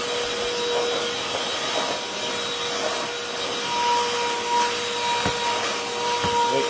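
Moulinex X-Pert 160 cordless vacuum cleaner running with a steady whine and airy rush, its brush rubbing and knocking faintly over the floor now and then.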